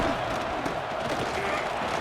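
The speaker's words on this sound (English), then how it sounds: "here comes the noise. This crowd is trying to inspire this defense to make a big red zone stop" A football stadium crowd at an Oregon versus Louisville playoff game roars steadily in a dense, continuous wall of noise, loud and sustained throughout as fans try to spur the defense.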